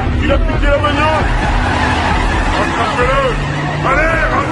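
A stolen car speeds off with tires skidding and squealing in rising, wavering screeches over engine roar, amid a loud, chaotic scene with voices babbling underneath.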